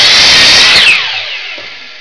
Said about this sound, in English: if you got a miter saw, you just want to cut them at 24 degrees